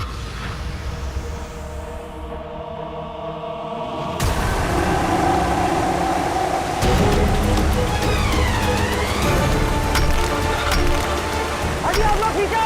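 Cartoon rain of liquid nitrogen falls in a superhero cop show fighting a strange monster, a steady loud hiss-like downpour with a sudden jump in level partway through, layered with whooshing effects and music.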